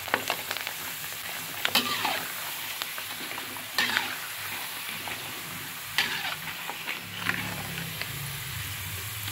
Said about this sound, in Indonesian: Nah, ini udah selesai goreng gadungnya ya